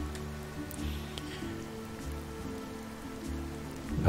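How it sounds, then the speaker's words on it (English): Steady, soft rain patters continuously in the video game A Hat in Time, an even wash of droplets with a low ambient music drone beneath and no voices. "Take a moment to just enjoy the rain."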